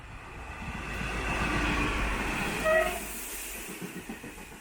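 A diesel train runs through Moonee Ponds railway station in Victoria, Australia, without stopping, a loud continuous rumble and rolling rail noise that peaks midway and then begins to fade.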